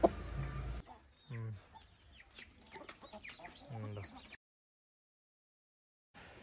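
Aseel fighting chickens on a Kerala farm cluck in short repeated bursts, close and fairly clear, over a brief noisy start and then silence.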